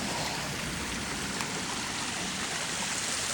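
A garden creek rushes past a small built waterfall dam into a little pond, making a steady, dense wash of flowing water that stays even and unbroken throughout, with no voices.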